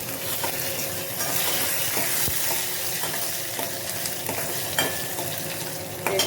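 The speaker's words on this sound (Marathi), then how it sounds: "तेलामध्ये आधी जाणार राई, राईच्या पाठोपाठ जाणार जिरं, जिऱ्याच्या पाठोपाठ जाणार बडीशेप आणि मग हे लसूण" Mustard seeds, cumin, fennel and garlic fry in hot oil with a steady crackling sizzle and scattered sharp pops, while a spoon scrapes and stirs in the pan now and then.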